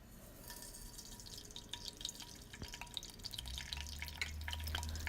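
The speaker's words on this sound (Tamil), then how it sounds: "இப்போ கடுகு நல்லா வெடிச்சிருச்சு." Mustard seeds and cinnamon sizzle and pop in hot oil, a quiet run of scattered crackles and sharp spits, with a low sizzling hiss building toward the end.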